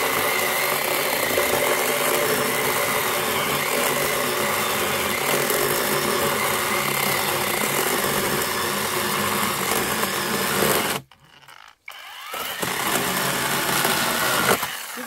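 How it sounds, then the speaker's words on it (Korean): A small chainsaw engine runs loud and close at a steady, buzzing pitch, briefly cutting out near the end before starting up again, while cutting firewood in a cold mountain setting. "그 엔진톱이다."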